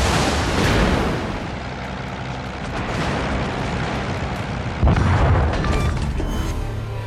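A video game enemy cruiser blowing up in a broad, rumbling explosion that roars on continuously, with a second heavy burst near the end, loud and dense.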